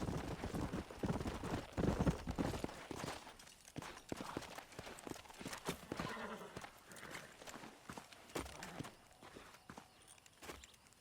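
Horses walking in the video game Red Dead Redemption: an irregular clip-clop of hooves, fairly close and moderately loud, with a possible brief whinny.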